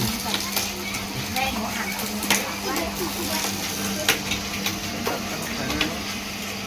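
A new sugarcane juice press machine grinds steadily and loudly, a dense continuous mechanical roar with a constant hum and occasional clanks, masking everything else.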